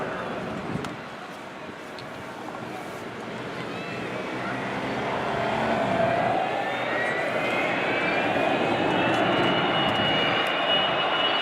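The Avro Vulcan XH558 bomber flies past with its gear down at the Farnborough Air Show, a broad roaring jet rumble that swells steadily and holds loud, with a falling whine as it passes.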